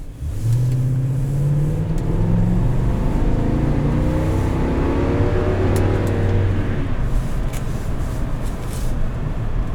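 A 2010 Toyota Sequoia Limited in tow haul mode accelerates hard, its engine heard from inside the cabin as a loud, steady drone rising in pitch over about ten seconds, with no talking.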